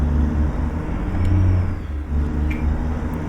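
A truck engine in American Truck Simulator downshifts through sequential gears, giving a loud, steady low drone that dips and rises as the gears change, with a faint whine and soft clicks over it.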